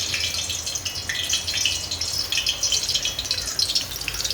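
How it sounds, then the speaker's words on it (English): Steady crackling sizzle of chicken frying in hot oil, close and continuous, with bursts of popping spattering throughout. "So you hear that sizzling?"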